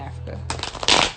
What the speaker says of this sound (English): now we're getting ready to start the shuffle